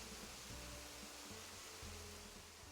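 Large waterfalls in Animal Crossing: New Horizons beside a spiral fairy pond, a dense, loud, continuous hiss of falling water with faint tones underneath and no talk.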